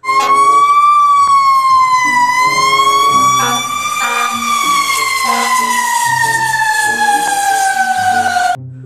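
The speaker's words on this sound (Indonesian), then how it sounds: "di sini ada mobil pemadam kebakaran" A toy car sound book plays an electronic fire truck siren, loud and continuous. Its pitch wails up and down in slow sweeps for about eight and a half seconds, then cuts off abruptly.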